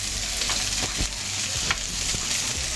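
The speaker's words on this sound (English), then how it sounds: "So this will saute for about 4 or 5 minutes until it's nice and more tender." Vegetables sautéing in a pan in a home kitchen, a steady close sizzle with a few soft stirring scrapes, no talk.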